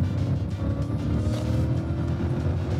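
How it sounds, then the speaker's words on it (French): A car cruises onto the autobahn with a steady, close engine drone and road rumble continuing evenly throughout, no voices heard. "Là, j'embarque sur l'autoroute."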